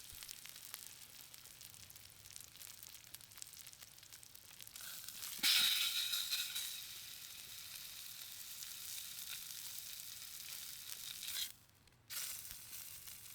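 Berkshire pork chops sear on a Ninja Woodfire grill with a steady, hissing sizzle. The sizzle jumps louder midway, stays strong for the rest of the clip and briefly cuts out near the end.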